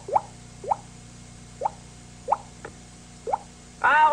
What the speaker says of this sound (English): It's just the faucet dripping.